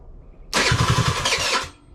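On a test stand, a scooter engine is started with the start button: a near, loud burst of cranking turns into a brief rough run before it fades out.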